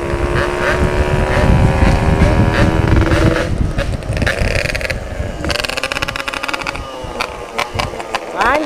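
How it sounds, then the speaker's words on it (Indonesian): A Yamaha RX King two-stroke motorcycle with a setengah dewa exhaust from Priuk revs and rides past, loud and close, with rising and falling engine pitch, crackling bursts and wind buffeting. "Jadi ini knalpot gua pakai setengah dewa dari Priuk"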